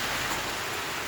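Heavy rain pours down in a steady, dense hiss with no break, loud and close, during a thunderstorm.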